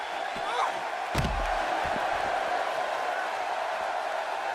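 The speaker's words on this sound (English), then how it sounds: "Face first, into the crowd barricade goes Joya." A wrestler is slammed face first into a thin crowd barricade at an AWL wrestling event, making a single sharp crash that stands out over constant crowd noise and commentary.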